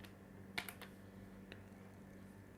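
Quiet, sporadic keystrokes on a computer keyboard while code is typed, a short cluster of clicks followed by a single isolated tap over low background hum.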